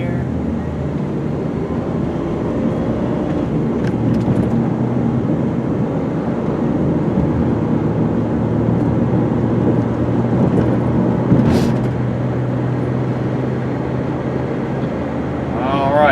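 A 2001 Honda Odyssey EX minivan drives along a road, heard from the cabin as a steady low road and engine rumble with tire noise, with a few brief clicks and a short squeal near the end.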